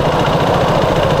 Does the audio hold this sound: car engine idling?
yes